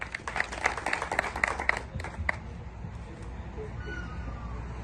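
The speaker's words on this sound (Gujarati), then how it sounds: "બાપુ માટે તાળીઓ થઈ જાય." A meeting audience in a hall claps for a guest. The applause is a short, fairly faint patter of hands that fades out within about two seconds, followed by quieter room noise and speech.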